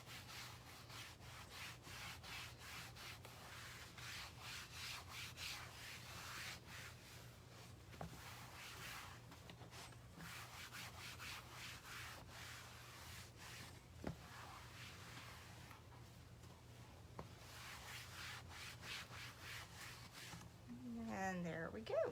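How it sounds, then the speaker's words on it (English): A microfiber cloth rubs a wooden board dry in soft, quiet, rhythmic wiping strokes that continue steadily, with a few light knocks along the way. "the microfiber side which you use for drying. And I'm just going to dry this board."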